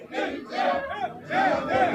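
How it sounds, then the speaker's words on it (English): Cheering squad of District 9 fans celebrating at the LFA District League football final, a loud crowd chanting and singing in rhythmic swells, voices rising and falling together. "Total celebration from the cheering squad of district number 9. You can hear the song."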